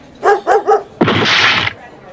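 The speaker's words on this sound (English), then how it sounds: "Dolly, bad dog." A small dog gives three quick close barks in a row, followed by a louder harsh burst of noise, no talking in between.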